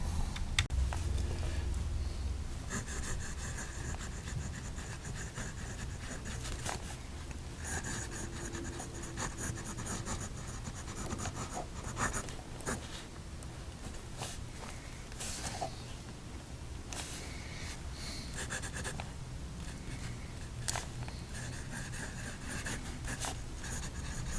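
A Nemosine Singularity fountain pen nib glides and scratches across paper in steady, quiet strokes with brief pauses between them. The sound is close and soft, with no talking, over a faint background hiss.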